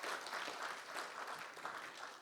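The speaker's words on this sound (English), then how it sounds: "Please join me again to give him a big round of applause." An audience at a Nigerian Society of Engineers distinguished lecture claps steadily, a dense, even wash of hands with no gaps, fairly quiet and distant, lasting a couple of seconds.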